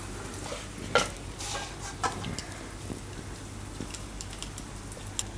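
Corn and potato paratha roasts on a pan over medium gas, giving a faint steady sizzle broken by a few soft scraping and tapping sounds, with no talking.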